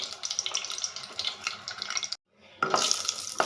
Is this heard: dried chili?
yes